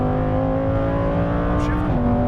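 Lamborghini Huracan Performante accelerating hard on a track, a loud close engine tone climbing steadily, then dropping at an upshift near the end, while an instructor talks over it.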